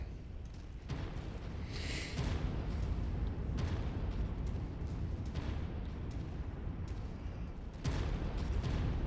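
Artillery fire in the Mechwarrior 5 video game: repeated heavy booms and rumbling blasts rolling in a dense, continuous barrage, with sharper bursts at intervals and no talking.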